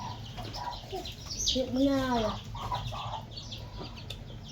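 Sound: chickens clucking

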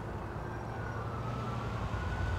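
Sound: police car sirens

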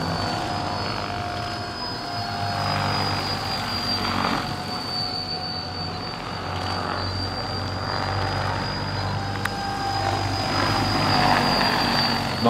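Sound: RC tandem-rotor helicopter model flying

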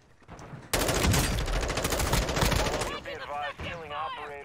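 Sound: sniper gunfire in video game Call of Duty DMZ

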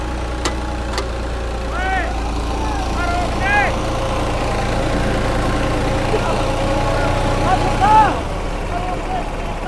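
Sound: tractor engine running

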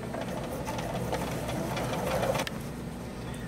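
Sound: sewing machine sewing quilt binding seam

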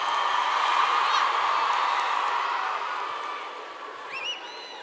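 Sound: audience applause at a festival concert

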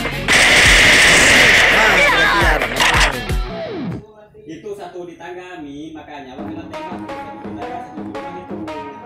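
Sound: gunfire in the video game Free Fire

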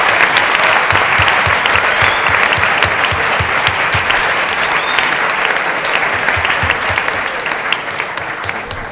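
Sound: audience applause

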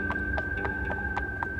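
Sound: horse hooves clip-clopping as rider arrives

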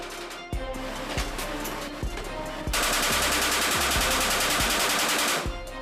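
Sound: machine gun firing a full ammunition belt

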